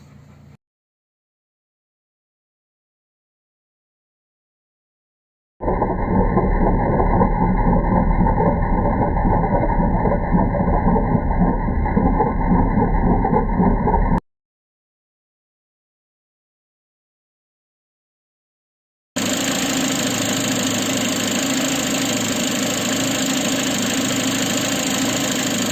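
A car engine with a noisy timing belt idles in bursts: a steady, rough mid-pitched running sound in one stretch, silence, then a brighter, harsher idling segment, each loud and close with no voices.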